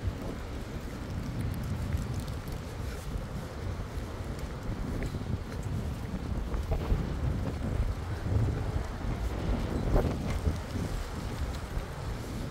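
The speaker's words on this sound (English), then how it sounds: "Can you hear the wind?" Strong wind roars steadily and loudly throughout, a constant rushing blast against the microphone with no voices.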